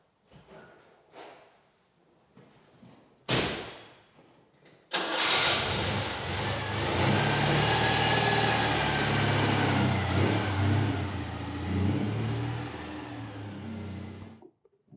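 A 1980 Citroën 2CV6 Charleston gives a few clicks and a short crank, then the engine catches and runs steadily at close range, its even mid-pitched drone continuing until it cuts off near the end.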